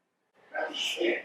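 A single sharp sneeze bursts out after a moment of silence, close and loud, trailing off into a breathy exhale.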